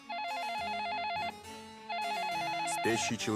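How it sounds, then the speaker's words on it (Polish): An old-style telephone rings with a rapid warbling trill, two rings separated by a short pause, loud and close, at night in a silent room. "ale telefon wciąż dzwoni"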